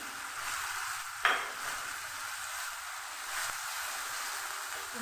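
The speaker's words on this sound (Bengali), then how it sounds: "ভালোভাবে মশলাটাকে আমি কষিয়ে নেব।" A ground cumin, coriander and turmeric spice paste sizzles in a pan for a Bengali katla fish curry, with a steady soft frying hiss and one brief scrape of stirring.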